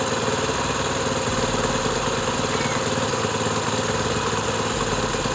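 Honda CD 70 motorcycle engine idling loud and close during carburetor adjustment, a steady rattling putter with the revs sagging slightly, no talking.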